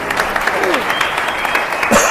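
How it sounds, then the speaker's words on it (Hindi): Loud, brisk applause from a church congregation at a Hindi-language sermon, a steady clatter of clapping lasting about two seconds, with a voice speaking over it. "एक जोरदार ताली"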